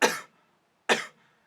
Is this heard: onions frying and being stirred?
no